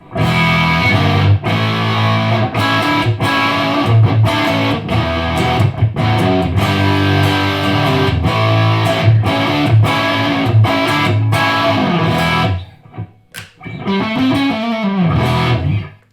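Distorted electric guitar through the high-gain input of a Morgan MVP35 amp, playing a continuous riff with heavy, saturated tone, briefly stopping near the end before resuming.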